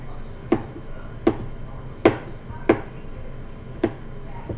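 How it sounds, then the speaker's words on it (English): A knife dices apples for an apple crisp on a cutting board, giving six sharp, evenly spaced chops close by, with faint background sound between strikes. "so now I'm dicing"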